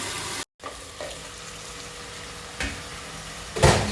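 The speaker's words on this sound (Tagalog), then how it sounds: "hayaan natin siyang maluto sa sariling katas ng isda at ng kamatis" Tilapia and tomato simmering in their own juices in a pan, a steady soft sizzle and bubbling with a few brief louder spatters, close and without talk.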